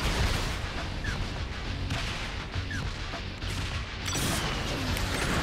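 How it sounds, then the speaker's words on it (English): In the video game Saints Row The Third, a missile launches amid a dense, continuous barrage of booming explosions and gunfire-like blasts, loud and chaotic throughout. "Missile away!"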